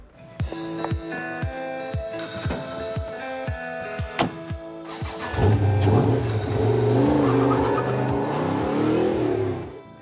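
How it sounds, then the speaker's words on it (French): A V8 engine in an Ultima GTR British sports car revs hard, with sharp repeated blips at first, then a sustained loud roar of acceleration that holds to the end. "le V8 derrière, il déborde de partout, il y a de la puissance partout"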